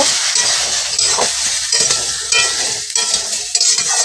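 Cut potatoes and Malabar spinach stems are stirred and fried in a hot pan, with a loud, steady sizzle close by and intermittent scraping from the stirring.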